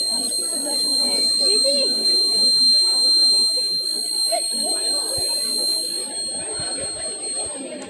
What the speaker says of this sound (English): the buzzer will beep and light will operate